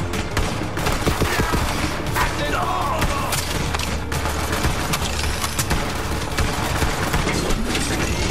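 Sustained gunfire from the shooter video game Borderlands 3 crackles in rapid, dense bursts over constant loud game noise, with no talking.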